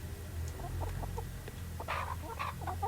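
Free-range village chickens cluck in short, scattered bursts over a steady low background hum, close by and moderately loud, with a few sharper squawks toward the end.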